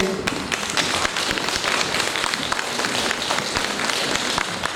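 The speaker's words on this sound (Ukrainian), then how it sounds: "давайте ще раз своїми оплесками привітаємо всіх" Sustained applause from a crowd, dense steady clapping filling the whole stretch at an even, fairly loud level.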